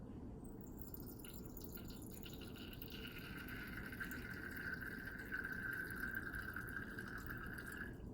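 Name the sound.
base liquid draining from burette into waste beaker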